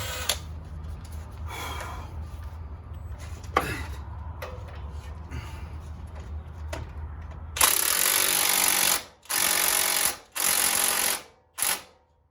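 A power tool tightens a ball joint nut on a 2010 Toyota Sequoia, first with low background rumble and knocks, then loud whirring bursts in several short spurts.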